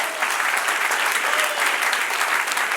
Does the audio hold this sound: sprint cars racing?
no